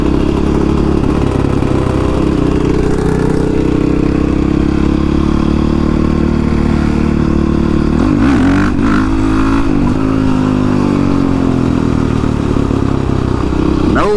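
A Honda CRF 450X converted to a supermoto, ridden on the street, runs with a loud, close single-cylinder engine note that holds steady and then revs and shifts in pitch around the middle.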